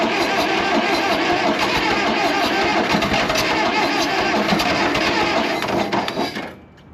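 An Allis Chalmers 644 articulated forklift that sat over ten years, its engine cranking over loudly and steadily for about six seconds before the churning winds down and stops.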